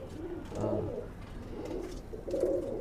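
Imported pigeons coo in a few soft, rounded bursts nearby, with short pauses between calls and no voices.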